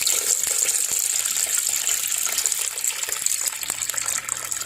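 Water pouring steadily into a container for a brown sugar and salt brine for smoking goose breasts, a continuous close splashing gush with no talk.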